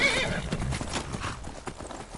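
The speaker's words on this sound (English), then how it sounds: "Oh, the horse is attacking." Horse in the Skyrim video game, rapid clip-clop hooves galloping with a whinny mixed in, close and fairly loud, game action noise around it.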